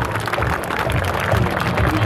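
Audience applause at the Zhukovsky air show, following an aerobatic display by Yak-54 aircraft, rolls on steadily as dense, continuous clapping mixed with crowd noise.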